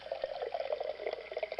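Filtered water drips steadily into the lower chamber of an Imperial Berkey gravity water purifier, a quiet continuous patter of small drops with faint trickling throughout.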